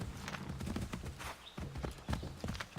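Horse hooves clip-clop at a walking pace in Assassin's Creed 3, a quiet run of uneven hoof strikes with brief gaps and no voices over them.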